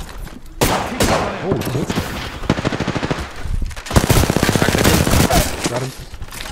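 Rapid automatic gunfire in the video game Apex Legends, dense bursts of shots rattling for several seconds with a brief pause between volleys, loud and close, with a short spoken exclamation.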